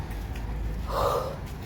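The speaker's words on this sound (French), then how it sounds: "Moi, je suis essoufflée." A woman, pregnant and short of breath, lets out a single brief out-of-breath gasp partway through, close to the microphone over a low background hum, with no speech.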